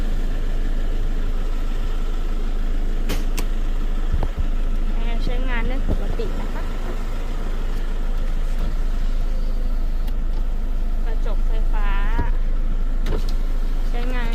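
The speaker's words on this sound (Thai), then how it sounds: "เดี๋ยวไปฟังเสียงเครื่องกันเลยค่ะ" A used car's engine idles steadily after starting, a low continuous hum with a few brief clicks and whines over it, recorded close up with someone talking intermittently nearby.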